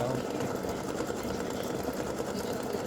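A sewing machine stitches an appliqué test piece on fabric with a steady, even whir that runs unbroken from start to finish.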